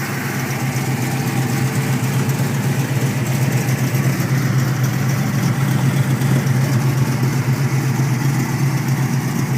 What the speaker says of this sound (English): Idling pretty solid, big lopey cam in this thing.